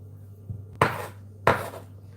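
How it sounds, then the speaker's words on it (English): A knife chops food into small chunks on a cutting board while meatballs are being prepared, giving two crisp, loud knocks about half a second apart with a softer tap before them. "I'm just chopping that little end bit now into little chunks of its own."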